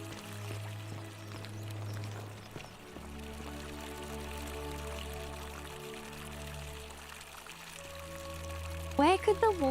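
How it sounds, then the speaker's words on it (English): Flowing water trickles in The Forgotten City video game, a faint running pour under low droning music, with a voice talking over it and a brief bright flutter near the end. "Where could the water be coming from?"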